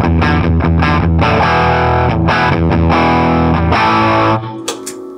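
Electric guitar through a JRockett pedal with the gain turned down and the volume up plays a loud, distorted run of chords and single notes with short choppy breaks, ending in a brief ringing decay.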